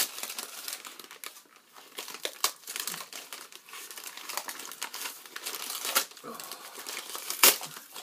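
A taped-up mail envelope is torn and crumpled open by hand, with steady crinkling and sharp ripping bursts close to the mic, a louder tear near the end.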